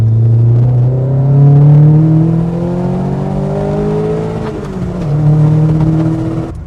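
A Vauxhall Nova Sport 1.3 on twin Weber 40 carburettors revs hard and loud with a raspy, rising drone that climbs through the revs, eases briefly, then pulls again, with no talk.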